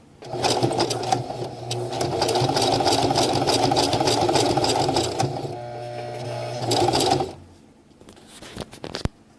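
Sewing machine stitching PALS/MOLLE webbing for an accessory pouch, a steady loud mechanical whir with rapid needle chatter running for about seven seconds before stopping abruptly, followed by a few quiet clicks and knocks as the machine jams.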